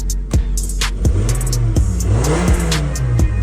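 Car engine cranking and firing up after a new starter was fitted, with starter whirs and clicking, then the engine catching and revving with rising and falling pitch, loud and close, no voices.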